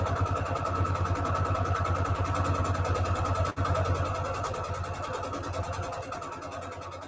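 A domestic sewing machine stitches fabric strips together for a scrap string quilt, running in a steady, rapid mechanical whir with a fast needle rhythm, close and continuous, pausing briefly midway before resuming.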